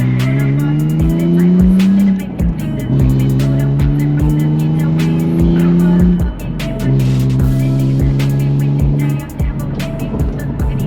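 An E46 BMW M3's exhaust, valve closed, burbles at low revs, climbing through gears with repeated rising engine notes and brief dips between shifts, heard close up.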